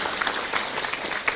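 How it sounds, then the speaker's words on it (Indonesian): Studio audience at a televised Islamic religious programme applauding, a dense, steady wash of many hands clapping at close range. "Tepuk tangan untuk teman kita Dalili."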